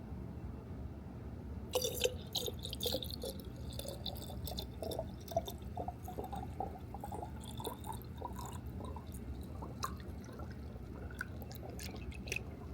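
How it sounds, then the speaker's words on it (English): Coolant poured into the intercooler reservoir of a YagerWerx intercooler system during bleeding, a soft steady liquid trickle with scattered drips and small splashes, close and fairly quiet. "Some more pouring."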